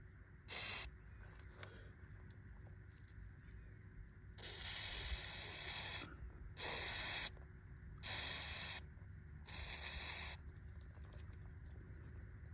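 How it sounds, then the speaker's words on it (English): Brake cleaner sprayed from an aerosol can onto a Toyota Celica TA22 oil pressure sensor: four or five loud hissing bursts of one to two seconds each, heard close over a steady low background hum. "I'm using some brake cleaner, and let's see how it works"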